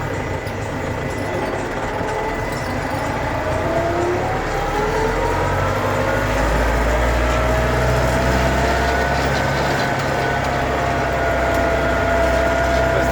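A road roller's engine rumbles loudly and steadily as the machine pulls away while rolling asphalt, a constant low drone with a faint rising whine over it and no talk.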